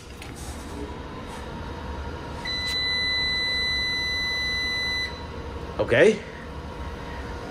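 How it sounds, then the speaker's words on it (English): Cooling fans of an LV6548 solar inverter start up after a beep, a steady whirring hum holding for a few seconds before a brief louder burst; a voice speaks briefly. "The fans just kicked in. Sounds like a bus."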